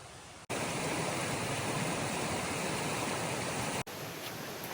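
Creek water flows steadily in the rainy Pennsylvania Wilds, a dense continuous rushing wash that holds constant for several seconds before cutting out abruptly, with no voices.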